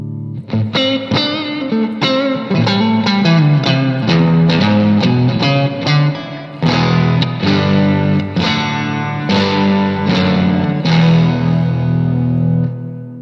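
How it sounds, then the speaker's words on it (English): An electric guitar plays through a 1964 Fender Super Reverb amp driving a Marshall cabinet, with loud, slightly gritty strummed chords and riffs that ring continuously, alone and without talk. "So this is a Fender Super Reverb, my 64 Fender Super Reverb, but played through my Marshall cabinet."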